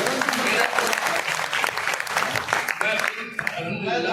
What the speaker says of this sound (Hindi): जोरदार तालियों के साथ सब लोग जो है